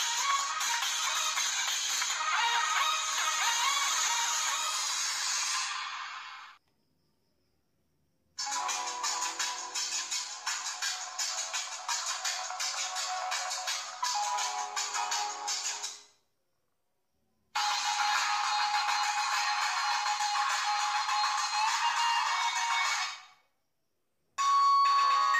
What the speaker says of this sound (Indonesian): Di sini kita cek buat nada ring sekalian kita nostalgia.